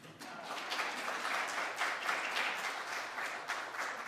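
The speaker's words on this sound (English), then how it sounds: "you should actually just applaud for Gay" Audience applause at a Mother's Day church forum, a steady wash of many hands clapping at moderate distance that holds evenly for the whole stretch, with no voices standing out.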